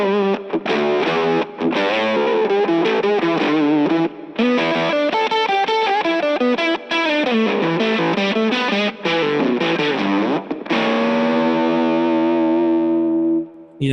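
Electric guitar through a harsh, buzzy octave-up fuzz plays a busy run of notes, loud and close, ending on a long ringing chord.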